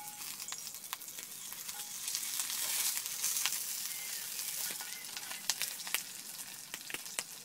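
Sausage frying over a campfire, a steady close sizzle and crackle of fat in the pan with occasional sharper pops, and no talking.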